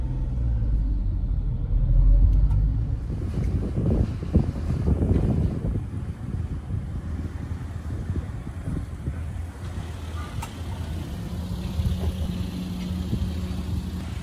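A Daihatsu Hijet Truck Jumbo kei truck is heard from inside while driving. Its engine and road noise make a steady low rumble with some wind buffeting, and it swells briefly early on.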